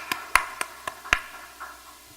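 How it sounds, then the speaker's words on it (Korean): A few sharp, separate hand claps ring out at uneven intervals during a Sunday afternoon church service, crisp and fairly close, fading with a softer clap near the end. "박수 한번 해주세요."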